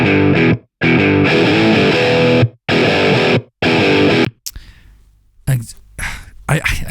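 Electric guitar played through a UAD Marshall amp plugin, loud distorted chords in several bursts separated by short gaps, then quieter scattered notes and string noise toward the end.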